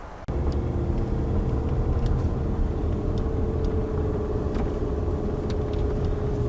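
Steady low engine rumble of a car driving, continuous and close, with a faint hum and occasional light clicks, no talking.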